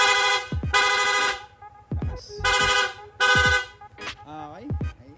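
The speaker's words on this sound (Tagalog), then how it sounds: "Nag-install din tayo ng rapid horn." A rapid horn fitted to a Sniper 155 motorcycle sounds several rapid, loud, close bursts of honking in quick succession, each short toot repeating in a stuttering pattern, with brief gaps and a voice in between.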